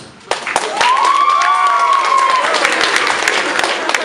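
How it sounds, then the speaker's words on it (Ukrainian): Applause for a product team breaks out at an event, dense clapping mixed with crowd cheers and a rising whistle-like call, loud and sustained throughout. "Оплески команді продукт!"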